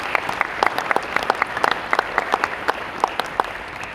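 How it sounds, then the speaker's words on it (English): Steady applause from an audience at a Queensland state election candidate forum held by a chamber of commerce, dense, fairly loud clapping with sharp individual claps standing out and no talk. "So could you join me in please thanking them by applause"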